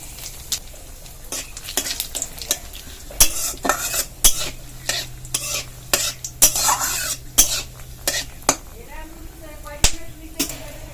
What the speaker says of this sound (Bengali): তেল গরম হয়ে গেছে, ফোড়নের জন্য দুটো তেজপাতা, দুটো শুকনো লঙ্কা দিয়ে দিলাম, গোটা জিরে দিয়ে দিলাম